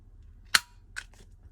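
A corner rounder punch chomps through a paper corner for a junk journal: one crisp snap followed by two smaller clicks as the punch releases, close and otherwise quiet.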